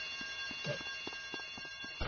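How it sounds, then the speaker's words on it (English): An alarm rings in the video game GTA, a repeated pulsing tone in short regular bursts over a steady electronic background, fairly loud with no one talking. "that alarm!"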